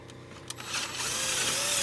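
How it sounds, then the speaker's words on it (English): A power drill enlarging holes on a sailboat whirs up to speed, starting with a few clicks and knocks before settling into a loud, steady high-pitched grinding whine up close. "So I'm just drilling the holes out"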